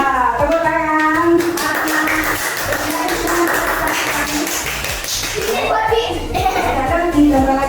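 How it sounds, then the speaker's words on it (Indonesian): Children in a school classroom clap their hands in a steady run of rapid claps, close and loud, with children's voices and an adult talking over it. "Ya, tepuk tangan."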